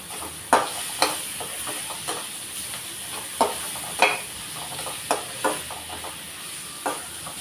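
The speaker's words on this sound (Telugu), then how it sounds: "ఇప్పుడు దీన్ని మంచిగా ఫ్రై చేసుకోవాలి" Onions and curry leaves frying in a pan, a steady soft sizzle broken by repeated sharp scrapes and taps of a stirring spoon, close and fairly quiet with no talking.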